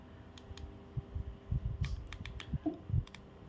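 Keypad buttons on a Baofeng handheld radio are pressed in a quick series of small plastic clicks, each separate and close by, with faint beeps over a quiet hum.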